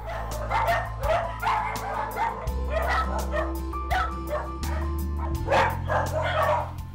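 Several dogs in a cluttered animal hoarder's house, many of them suffering from mange, bark, yip and whimper in quick overlapping bursts. The noise is close and loud and keeps up throughout, with no talk over it.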